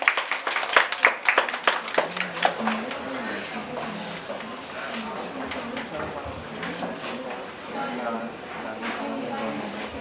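An audience at a poetry performance claps for a poet taking the stage, with dense, loud applause at first that thins into scattered claps while a voice talks over it.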